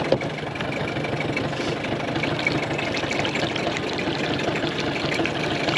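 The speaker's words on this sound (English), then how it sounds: "the motor fires right up." A Mercury 8 horsepower outboard motor idles steadily on a small boat, its continuous engine drone mixed with water splashing, close and even throughout with no pauses.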